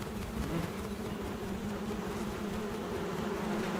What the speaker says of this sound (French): cette femelle fait vrombir ses ailes pour chasser les abeilles qui s'entêtent à défendre leur production.